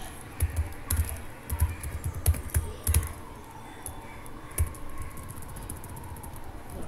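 Keys tapped on a computer keyboard while entering values into a CSV file, a quick irregular patter of soft clicks in bursts with short pauses, close and fairly quiet.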